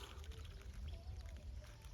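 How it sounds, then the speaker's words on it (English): Water is poured over the leaves of a habanero pepper plant to wash off fertilizer, a soft, faint trickle and splash that continues steadily for a couple of seconds with no talking. "So now I've washed off the fertilizer that has come into contact with the leaves"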